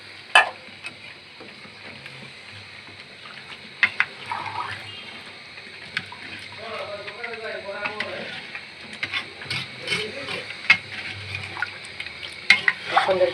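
Chicken bhuna with potatoes cooks in a pan as water is added, with bubbling, liquid stirring and scraping clatter, while a person talks over the cooking throughout.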